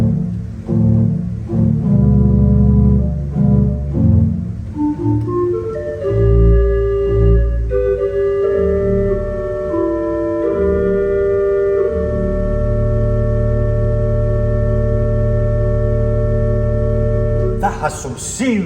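A three-manual pipe organ sounds its 16-foot Bourdon stop, a deep, rumbling bass held in sustained notes with a shifting line above, steady and full, ending in a brief higher flourish.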